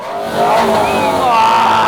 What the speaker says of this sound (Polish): Chciałem naturalnego dźwięku wolno ssącej V12.